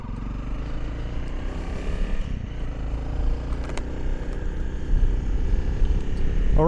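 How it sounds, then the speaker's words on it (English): A 2025 Honda CRF300L Rally, a 27-horsepower dual-sport motorcycle, drones loudly and steadily while riding, its engine note rising and falling with throttle under heavy wind noise. "the engine actually picks up a little bit better than I was expecting for 27 horsepower"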